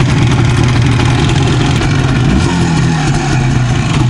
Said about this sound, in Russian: я сейчас в свойственной себе форме и манере поведения и движения возбуждаю этот двигатель